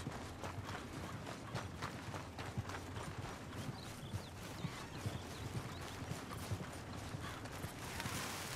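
Horse hooves clip-clopping in the video game Red Dead Redemption 2, a quick, steady run of faint hoofbeats that keeps going with no talking.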